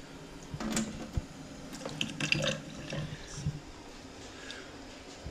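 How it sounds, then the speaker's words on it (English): Cooling water runs through the condenser of a home moonshine still, a soft continuous trickle with a few louder splashy surges, close and fairly quiet. "the cooling water is running through here"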